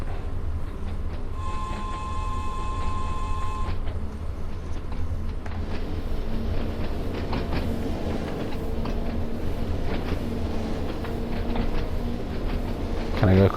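Train running in Train Sim World 2 on the Isle of Wight Smallbrooke shuttle, a steady loud rumble of rolling stock with a brief high tone early on and no talk heard.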